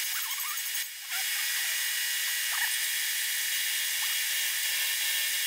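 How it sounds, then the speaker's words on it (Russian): A drill steadily bores counterbores for nuts in a Volkswagen LT cylinder head, a continuous high-pitched whine that briefly dips in load about a second in, then runs on loud and even. "Рассверлим занижение и под гайки."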